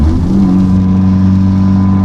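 A straight-piped VW GTI with a 3-inch downpipe roars loudly as it climbs uphill, a steady, deep exhaust drone with strong low rumble held close and continuous throughout.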